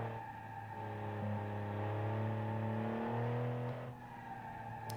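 A racing car engine in a racing video game drones steadily while high, drawn-out brake squeals rise over it, fading near the end.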